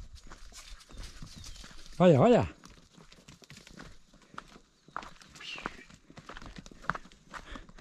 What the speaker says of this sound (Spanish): Corra el burro.